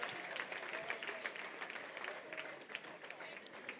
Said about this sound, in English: Folks, let's clap our hands.